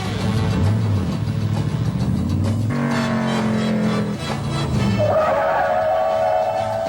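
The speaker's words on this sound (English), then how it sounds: "This 442 stopped from 30 miles an hour in 37 feet." Oldsmobile W30 442 braking hard to a stop from about 30 mph, loud and close: the engine note drops, then tires squeal in a long skid that ends in a rising screech.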